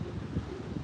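Wind gusts across the microphone at a wildlife park in Ballarat, Australia, making a loud, constant rushing buffet with low rumbling surges and no clear voices.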